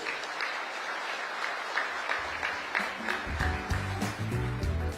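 Audience applause at the Sunhak Peace Prize award ceremony in Seoul, a steady wash of clapping filling the hall, with some low rumble and voices rising toward the end.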